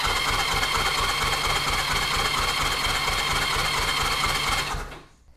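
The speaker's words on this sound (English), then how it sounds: "actually crank the engine for a second" A car engine cranking over on the starter during a compression test, a steady rapid rhythmic churning that stays loud and close for about five seconds, then cuts off.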